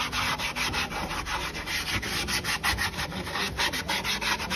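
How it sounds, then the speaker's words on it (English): A Statim 2000 sterilizer cassette handle is scrubbed with a brush and lather, making rapid, rhythmic rubbing strokes that sound close and continuous without any talk. "You're also not gonna hurt your handle by giving it a good scrub also."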